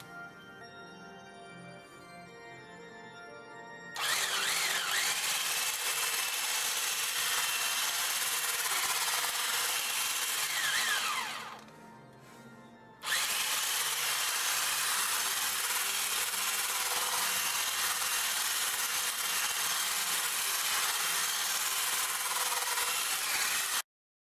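A handheld electric mixer with a whisk attachment whirs through pumpkin cake batter, a loud steady buzzing that cuts out briefly midway, then starts again and runs on until it stops abruptly.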